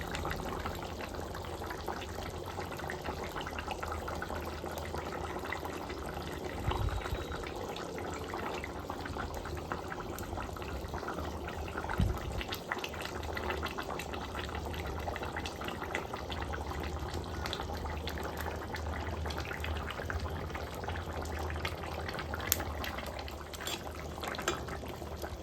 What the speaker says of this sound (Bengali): ঝোল কিন্তু ফুটে গেছে, আমি এবার মাছগুলোকে দিয়ে দেব।